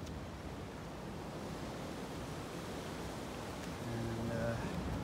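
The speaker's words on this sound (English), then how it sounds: "You can listen to the sea." Soft, steady rush of sea waves on a beach beside an old guardhouse, heard faintly under wind noise, with a brief louder swell near the end.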